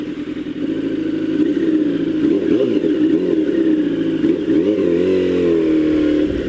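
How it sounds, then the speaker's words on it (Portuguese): A motorcycle engine on a freeway drones loud and close, its pitch swelling and dipping repeatedly as the throttle is revved, with no one talking. "A moto tá cantando, acompanhando."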